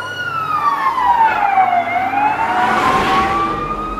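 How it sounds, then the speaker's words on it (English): A Russian fire truck siren sweeps slowly down and back up in a long wail, loud and steady with traffic noise beneath. "This is a Russian fire truck."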